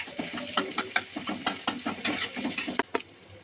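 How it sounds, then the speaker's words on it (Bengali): Potatoes with salt and turmeric sizzling in a wok, with regular sharp scraping strokes of a spatula stirring them, close and moderately quiet. "কড়াইতে আলু দিয়ে নুন হলুদ দিয়ে এবার আলুটা ভালো করে ভেজে নিচ্ছি।"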